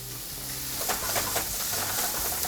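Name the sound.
soffritto frying with salt in a hot pan for bolognese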